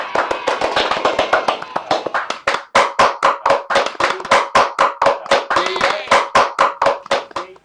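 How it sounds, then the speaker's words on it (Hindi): Clapping greets a guest on a comedy stage show: sharp, distinct hand claps in a quick, fairly even rhythm, loud and close, with a brief gap partway through. "तो स्वागत करिए जोरदार तालियों के साथ प्रेमिका जी का।"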